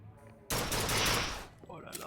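Sniper-like gun from the Bioshock Infinite video game fires once, a sudden loud broadband blast with a roughly one-second crackling roar that fades, followed by a quieter tail.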